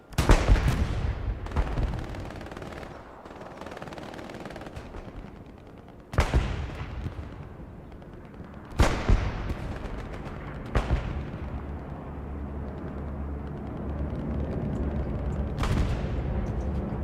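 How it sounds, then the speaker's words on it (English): Bombing run in the WWII shooter Hell Let Loose on the Hürtgen Forest map: several heavy booming blasts at irregular intervals over a constant rumbling battlefield bed, with gunfire crackling in between and no talk. "So that's a Phoenix bombing run."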